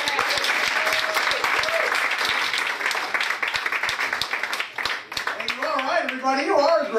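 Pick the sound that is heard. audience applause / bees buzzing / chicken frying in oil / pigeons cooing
audience applause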